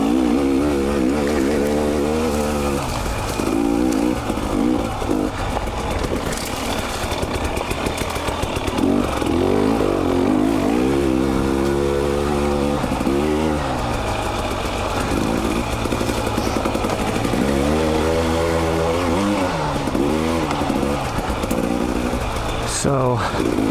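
A 2020 KTM 300 XC TPI two-stroke dirt bike on Dunlop AT81 EX tires revs steadily throughout, its engine pitch rising and falling as it is ridden close by, loud and continuous under some faint talk.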